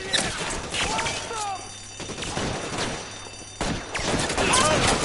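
Gunfire in LA Noire, several sharp shots and short volleys scattered across the stretch, mixed with ringing game sound effects and talk from players over the action.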